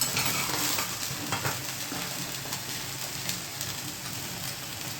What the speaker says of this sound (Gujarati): નકરા જીરાનો વઘાર કેવો આવે છે જોજો